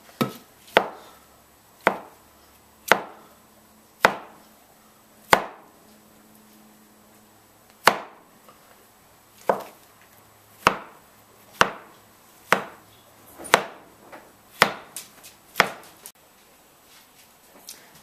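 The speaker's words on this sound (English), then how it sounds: "this is Nate's way of slicing the tomatoes after we've already cut about 30 or 40 tomatoes" Knife chopping through tomatoes on a cutting board during salsa prep, about seventeen sharp, evenly spaced strokes with a short pause midway, close and clear with no talking.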